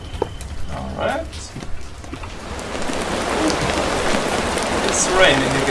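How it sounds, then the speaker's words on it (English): Rain in the video game Minecraft, a steady hissing downpour that swells and stays constant, joined partway by a faint voice speaking over it. "It's raining again."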